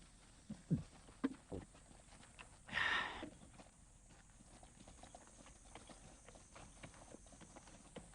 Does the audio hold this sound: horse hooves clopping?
yes